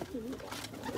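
Young racing pigeons in a loft coo softly, a few low warbling rolls close by but faint, over quiet background rustle.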